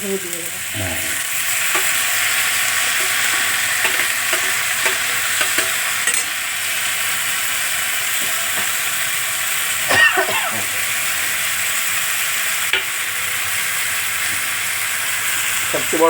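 Onion, garlic, green chilli, tomato, salt and turmeric sautéing in a pan, a steady bright sizzle with occasional scraping stirs, moderately loud and continuous throughout.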